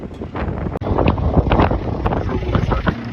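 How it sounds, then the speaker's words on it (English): Strong wind on a farm buffets the microphone in loud, gusty rushes, with a rumbling, blustery roar throughout. "It's pretty windy again today."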